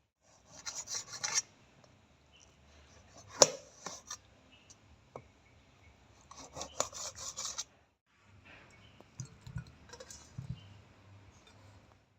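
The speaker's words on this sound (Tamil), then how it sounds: "தக்காளி பழம் எடுத்துருக்கிறோம் அதையும் வந்து கட் பண்ண போகிறோம்" A knife cuts tomatoes into quarters on a board, heard as close, scraping cuts in several bursts separated by quiet pauses, with a sharp tap partway through.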